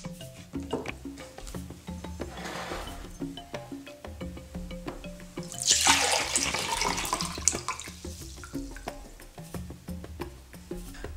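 Coconut water pours and splashes out of a coconut cracked around the crown, a continuous trickling and gurgling with a louder gushing stretch midway, close up among scattered tapping and handling noises.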